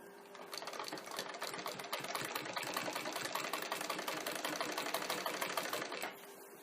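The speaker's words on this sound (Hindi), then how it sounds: "और इसके ऊपर में इस तरह से सिलाई करते जाएंगे।" A sewing machine runs in one continuous stretch of stitching on blouse fabric, a fast even mechanical clatter heard close up for about five seconds before it stops.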